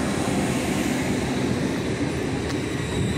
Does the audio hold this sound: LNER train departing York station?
yes